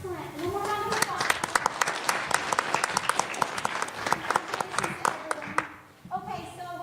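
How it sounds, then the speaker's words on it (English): Audience at a school spelling bee breaks into applause, sharp individual hand claps standing out from a steady crowd of clapping, with children's voices chattering underneath before it fades near the end. "One more round of applause."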